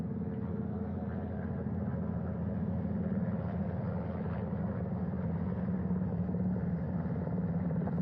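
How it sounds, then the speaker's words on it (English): Helicopter hovering over a ship's flight deck during the Artemis II crew recovery at sea, heard from the bow across the deck as a steady, close, continuous rotor and engine rumble with no break. "Hearing them begin to hover on the flight deck, which is just across from us"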